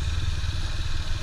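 A Yamaha MT-03 motorcycle engine running steadily on a mountain road, a loud, close, low droning rumble that holds even over a brief moment.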